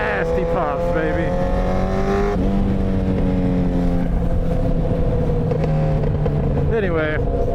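A Yamaha FZ8 motorcycle revs close by, its engine drone rising and falling in pitch while the exhaust crackles and pops throughout.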